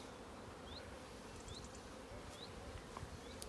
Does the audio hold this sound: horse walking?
no